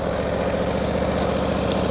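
A 1949 Harley-Davidson Panhead engine braking down a steep hill, a steady low rumbling idle-like drone with constant vibration, close and continuous throughout.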